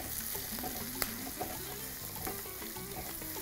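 Banana flower with masala is stirred in a kadai, a soft, continuous sizzle with light scraping and clinks from the spoon, low in level and steady throughout.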